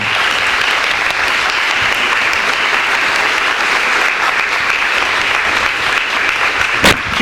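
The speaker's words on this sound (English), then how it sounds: "Keep those applause going." Sustained applause from a school hall of fame banquet audience, loud and steady throughout with no talk over it, plus a brief louder burst near the end.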